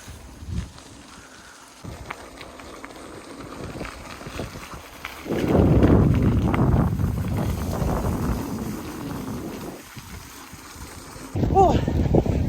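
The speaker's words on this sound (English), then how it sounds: "it's definitely a bit windy" Gusty wind buffets the microphone in rumbling bursts, loudest through the middle and again at the end, with brief quieter gaps between gusts.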